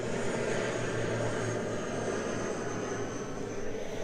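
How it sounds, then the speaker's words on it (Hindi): A passenger airplane flies overhead near a parked MG Hector Shine SUV, giving a steady, broad engine roar that holds level for the whole stretch with no voices over it. "And there is a plane."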